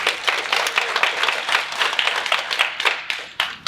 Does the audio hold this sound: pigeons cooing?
no